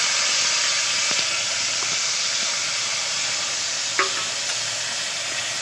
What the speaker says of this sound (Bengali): আর কি দিয়ে দিচ্ছি গ্রেট করে রাখা আনারস